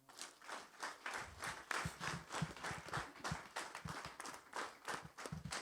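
A church congregation gives the Lord a loud round of applause during a service, many hands clapping in quick uneven bursts that carry steadily through the whole stretch without pause.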